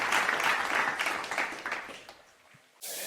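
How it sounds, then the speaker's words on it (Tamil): An audience applauds at a stage event showing goddess Amman darshan, a dense burst of clapping that fades out, then rises abruptly again at the end. "சிறப்பான கைத்தட்டல் கொடுத்துடலாம்."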